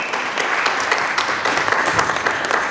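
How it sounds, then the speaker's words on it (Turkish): An audience at a film gala night gives loud, sustained applause, dense clapping that fills the room steadily throughout with no voices over it. "Antepler Derneği Başkanı Osman Kaplan, yüksek alkışlarınızı alıyoruz."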